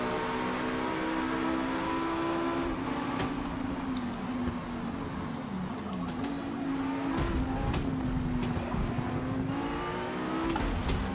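An Audi GTX-series race car engine in Forza Motorsport drones steadily close by, its pitch rising and dipping through gear changes and revving, with no pauses in the mechanical roar.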